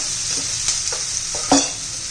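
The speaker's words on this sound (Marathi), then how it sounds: "चांगल्या भाज्या आपण फ्राय करून घेऊया" Mixed vegetables for masale bhat frying in a pan, a loud, close hiss of sizzling oil with a few short spatula scrapes and one firmer knock near the end, and no talk.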